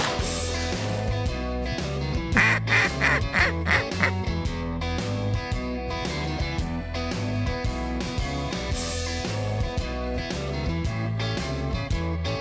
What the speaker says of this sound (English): I didn't even see those ducks.